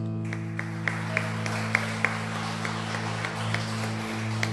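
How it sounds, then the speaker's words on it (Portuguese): Church congregation clapping in steady rhythm, sparse sharp claps over a constant low hum from amplified instruments, fairly faint and distant. "Você pode aplaudir mais uma vez."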